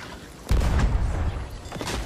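A ship's cannon in Sea of Thieves fires a cannonball with a sudden deep boom, followed by a rumbling tail and a second, softer thud.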